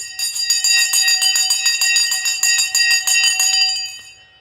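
A bright metal bell rings in rapid repeated strikes for about four seconds, its clear overtones layering and then fading out, with no talking.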